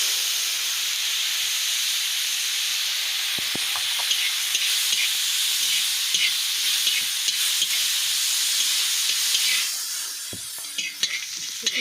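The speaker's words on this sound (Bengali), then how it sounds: "এখন এই যে মাথাগুলো, শুটকির মাছের মাথাগুলো ভেজে নিচ্ছি।" Dried fish heads frying in hot oil in a home kitchen, a steady sizzle and hiss with occasional stirring clicks and pops, nearby and continuous with no talking.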